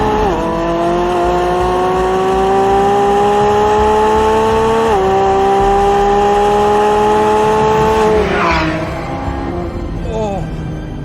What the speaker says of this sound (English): the sound of a naturally aspirated V12